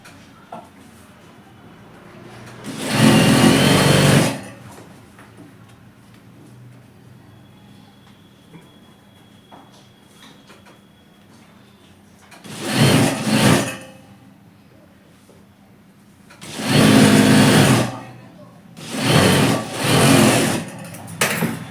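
A sewing machine stitches the zipper chain onto capri pants in four separate bursts of rapid whirring, with quiet pauses between runs.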